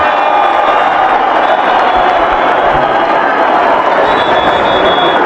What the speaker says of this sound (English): The crowd are up and about again.